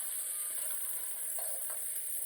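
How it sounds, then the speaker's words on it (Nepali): Vegetables with finely chopped carrot, capsicum and green chilli stir-fry in a pan for chow mein, a faint, even sizzle with soft stirring scrapes, no voices. "मजाले फ्राई गर्दैछु।"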